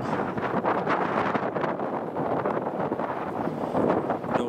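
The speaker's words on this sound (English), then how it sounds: "I don't need another wind blasting up there just yet." Wind blowing steadily across the open desert badlands near Jacumba in the Carrizo area, a constant rushing buffet against the microphone with no talk.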